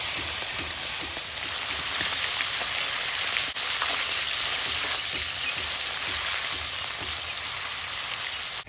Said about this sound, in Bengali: কড়াইতে তেল দিয়ে দিচ্ছি তেলে একটু লবণ দিয়ে দেবো একটা একটা করে ছেড়ে দিয়ে দেখি